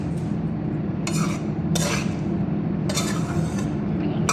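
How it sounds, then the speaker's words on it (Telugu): A ragi laddu mixture stirred in a pan over a low flame gives a steady low hum, broken by four scraping bursts as the spoon drags and clinks across the metal, up close. "కలుపుతూనే ఉండాలి ఒక సెకండ్ ఆపినా కూడా మళ్ళీ అడుగంటిపోతుంది"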